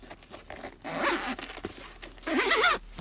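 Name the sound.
zipping up a Sony WH-1000XM3 headphone carrying case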